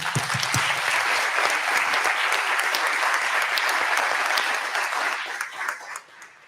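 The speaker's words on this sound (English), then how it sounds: "give them a big round of applause" Audience at a panel session gives a big round of applause, steady dense clapping throughout that thins and fades out near the end.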